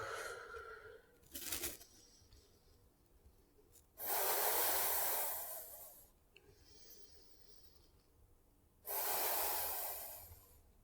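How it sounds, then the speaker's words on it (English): Deep, audible breaths during a hatha yoga session: a short sharp inhale followed by two long, loud hissing exhales, each lasting about two seconds, with quiet pauses between them. "Nice audible breaths, relaxing your body."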